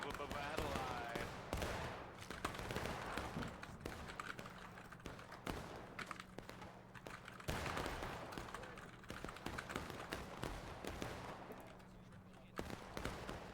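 Musket gunfire in a Manassas Campaign battle video game, with scattered sharp reports and ragged volleys rolling in bursts across the whole stretch while players talk over the shooting.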